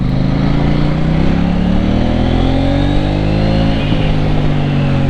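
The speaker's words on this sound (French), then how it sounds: "on va essayer de faire une petite accélération si c'est possible là" On a wet road, a 2018 KTM 790 Duke twin-cylinder motorcycle pulls away under acceleration, its engine rising steadily through the revs with a gear change near the end, loud and close from the rider's seat.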